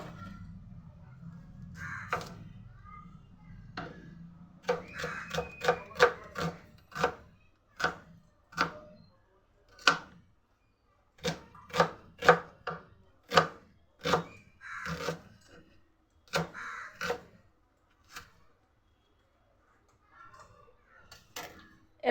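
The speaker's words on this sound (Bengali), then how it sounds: "এরকম চপড করে আমি পেঁয়াজটা কেটে নেব" A knife chops an onion on a cutting board in a steady run of sharp, close knocks, roughly two per second after a slower start, with short pauses between bursts and no talking.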